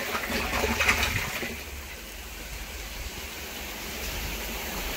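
Water pushed through a motor-driven pipe for orchard irrigation makes a soft, steady hiss and gush, faint and continuous, slightly stronger at the start.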